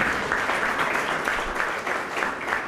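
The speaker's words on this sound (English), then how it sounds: "Please start clapping or I won't call the prize winners." An audience at a school prize distribution claps, a dense and steady burst of applause that holds for the whole stretch.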